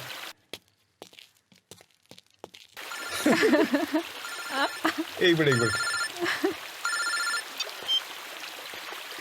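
A telephone rings in repeated electronic bursts, fairly close, while a person speaks briefly and other noises clatter around it.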